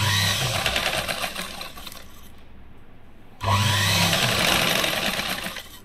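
A sewing machine stitches a katori blouse in a loud mechanical whirr that stops for about a second and then resumes at full speed.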